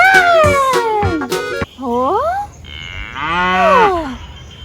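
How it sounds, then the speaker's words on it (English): A cow on a farm moos several times in loud, close, drawn-out calls that rise and fall, with brief gaps between them and no talking. "It's a cow!"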